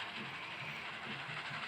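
A train rolls along in the Roblox video game, giving a steady mechanical rumble with a soft repeating clatter of wheels throughout.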